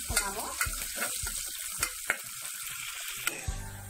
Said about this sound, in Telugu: ఇవి కొంచెం బ్రౌన్ కలర్ వచ్చేదాకా మనం ఇలా ఫ్రై చేసుకున్నాము